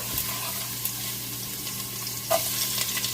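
Ginger and garlic with spices sizzle and fry in a pan, a steady soft crackle with a few utensil clinks and scrapes, no one talking.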